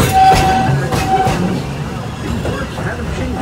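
A Walt Disney World Railroad train rumbles along with a steady low rolling clatter and a brief high squeal, heard close up beneath a faint voice.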